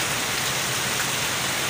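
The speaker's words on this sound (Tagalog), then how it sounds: "Lakas ang ulan, no? Lakas ang tubig." Heavy rain pours onto a road in Tagaytay during a storm, a loud, dense, unbroken hiss of water close by with no voices over it.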